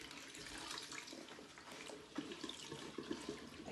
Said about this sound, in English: And then I'm going to drain out that water.